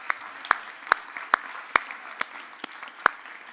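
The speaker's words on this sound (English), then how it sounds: "let's give a big round of applause for our audience" A conference audience at an Internet Computer talk claps in sparse, separate strokes, about eight distinct sharp claps spaced roughly half a second apart and fairly close.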